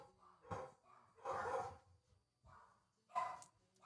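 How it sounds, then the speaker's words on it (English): Dogs bark at home behind a morning livestream, a few muffled, moderately distant woofs spaced out across a few seconds with no talk over them. "So sorry if you hear the dogs."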